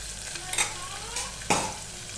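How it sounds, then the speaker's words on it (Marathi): Ground masala paste frying in a pan, with a continuous close sizzle and a couple of louder scraping strokes as it is stirred. "त्याच्यामध्ये छान असं फ्राय करून घेऊ त्यांना आपण मस्त असं लाल लाल होईपर्यंत"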